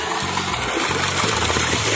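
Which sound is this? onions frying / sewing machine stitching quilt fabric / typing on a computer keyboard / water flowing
water flowing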